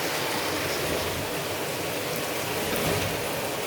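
Rain falling outside a balcony garden, a steady even hiss of drops with no breaks, moderately loud and alone with no talk.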